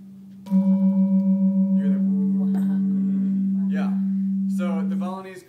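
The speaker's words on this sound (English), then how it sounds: "So the Balinese call it sort of a shimmering effect" A pair of Balinese gamelan instruments, tuned slightly apart, is struck together and rings as one sustained tone with a fast pulsing shimmer that gradually smooths out. A voice begins speaking near the end.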